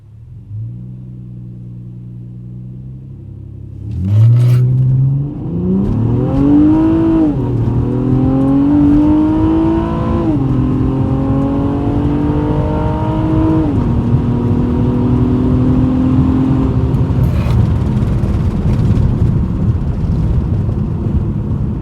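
A Honda Accord's engine roars loudly as it accelerates hard in sport mode with eco mode on, pitch climbing through several gear changes, dipping at each shift, then holding a strong sustained drone.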